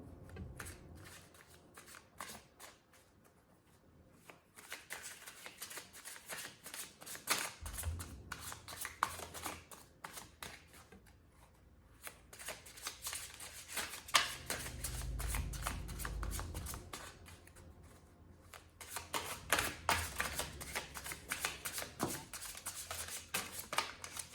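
Tarot cards are shuffled and pulled in long bursts of soft, rapid riffling and flicking, close but quiet, with brief pauses and a low thump partway through.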